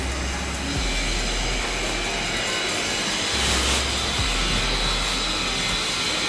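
A two-shaft grain crusher runs loaded with 25 kg of grain, giving a steady, loud, dense roar with a low motor hum underneath, continuous throughout without pauses.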